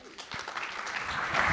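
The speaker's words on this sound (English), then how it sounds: "If you can give them a round of applause." Conference audience breaking into applause, a short burst of many hands clapping that builds and grows denser over about a second and a half.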